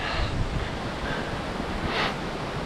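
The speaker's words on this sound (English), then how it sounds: "As you can hear, the wind is pretty intense today." Strong wind of about 50 km/h buffets the microphone on Mount Daisen, a steady roaring rush with gusty swells, one louder gust near the end.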